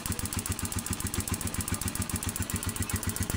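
A motorcycle engine fitted with a dual ignition coil chugs close and loud in a fast, even pulsing rhythm, a steady running note with no voices over it.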